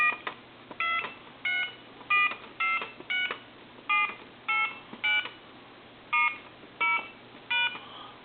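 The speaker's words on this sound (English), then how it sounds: "I'm going to go ahead and dial our numbers" Touch-tone keys on a repaired Mickey Mouse AT&T telephone sound a steady sequence of about a dozen short dual-tone beeps, evenly spaced with brief gaps, fairly quiet and thin over a faint line hum.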